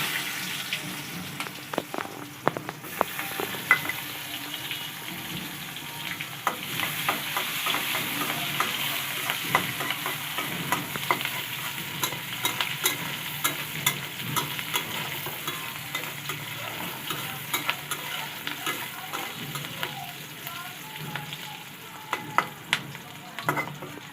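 Onions fry in oil and are stirred in a pan, making a constant close sizzle punctuated by frequent scraping and clicking strokes of the utensil, with no voices.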